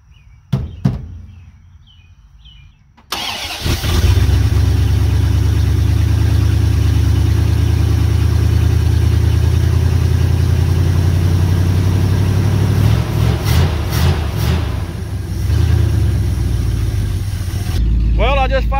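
The engine of an abandoned 1971 Dodge D100 pickup catches and settles into a loud, steady rumbling idle after a few quiet sounds, with brief rises in revs near the end, heard close up.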